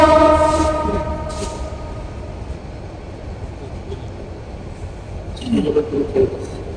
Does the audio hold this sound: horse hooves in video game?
no